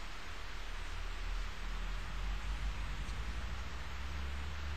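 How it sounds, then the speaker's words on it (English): Steady rain hisses continuously in the video game Fatal Frame 3, an even wash of falling water with no pauses or voices. "It's raining again."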